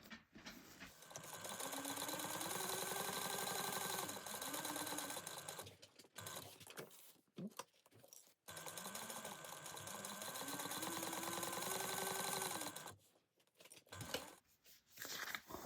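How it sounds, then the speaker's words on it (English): Sewing machine stitching a pocket down one side, across the bottom and up, in two long steady whirring runs with a short pause and handling clicks between them. "we're going to sew the pocket down, going down one side, across the bottom, and then up"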